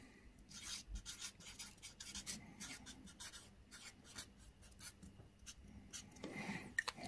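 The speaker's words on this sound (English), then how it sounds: "let's write down that first of all" A pen scratches and scrawls across paper in short bursts, near and quiet, with irregular strokes and small pauses and no talking.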